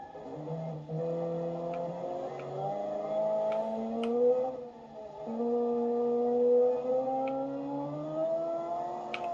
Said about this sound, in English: the inline six sound carried over to this car